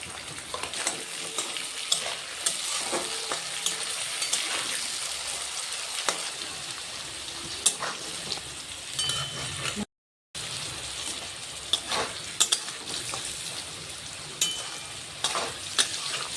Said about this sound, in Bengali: সবজিটা ভাজা হয়ে গেল, এবার তুলে নিলাম।